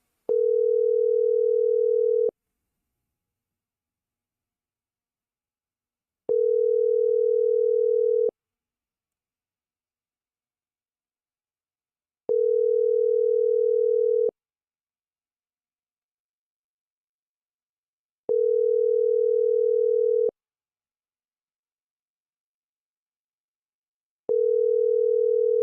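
Telephone line tone heard while a call is being placed: a steady mid-pitched electronic tone in five evenly spaced bursts of about two seconds, each followed by roughly four seconds of silence, with no talking.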